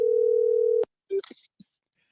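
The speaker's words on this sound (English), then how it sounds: "Let's call this first one and see who it is." A telephone tone sounds as a single steady, loud line for most of a second and then cuts off abruptly. It is followed by a short electronic blip and faint brief voice sounds, as a caller is dialed on a live show.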